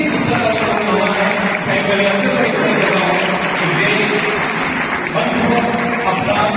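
Audience applause fills a book launch ceremony hall, dense steady clapping from a crowd held at an even level throughout, with no clear pauses.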